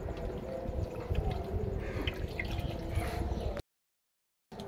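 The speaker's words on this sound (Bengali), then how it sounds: "এখন সাদা তেল দিয়ে দিব।" White cooking oil is poured into a well-heated cooking pot, making a steady, close liquid rush with faint crackle for several seconds before it cuts off to silence.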